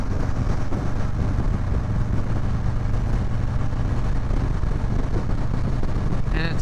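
A 2020 Harley-Davidson Low Rider S with a 114 engine riding at night, its engine rumbling steadily under heavy wind roar throughout.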